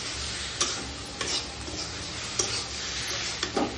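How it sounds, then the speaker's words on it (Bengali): A curry fries in a pan while being stirred, a steady close sizzle broken by regular scraping strokes of the spoon, with no voices. "ভাজা ভাজা হয়ে আসছে"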